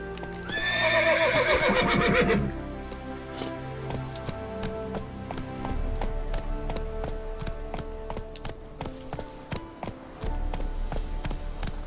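The horse Roach in The Witcher 3 lets out a loud, close whinny, then gallops on with rapid, rhythmic hoofbeats that continue steadily against a low game soundscape.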